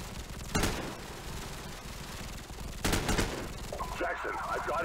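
Gunfire in Call of Duty: Modern Warfare, with two loud bursts of rapid shots a couple of seconds apart over a steady background rumble, followed by a voice talking near the end.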